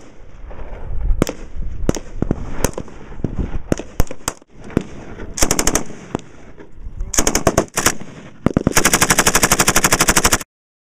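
Rifles and automatic weapons fire during an ROTC field training exercise outdoors: loud, sharp single shots and rapid bursts, ending in a long sustained stream of automatic fire, with brief voices in between.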